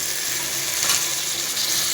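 Ginger garlic paste and onion sautéing in a pan for a mushroom biryani, a steady, fairly loud sizzling hiss with faint stirring movement underneath.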